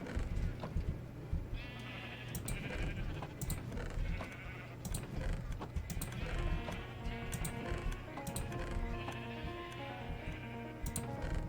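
Sheep bleat repeatedly in a video game, wavering cries overlapping through a dense background of music and clicking keys, fairly quiet overall.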